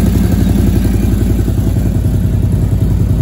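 A Can-Am (Bombardier) Outlander 800 ATV idles with its cooling fan running. The engine gives a loud, steady, close-up rumble with a fast low pulse throughout and no talking.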